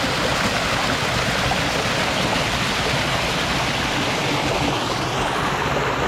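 A Crimean mountain stream rushes through a narrow channel carved in rock, a loud, steady, close wash of flowing water with no other sounds.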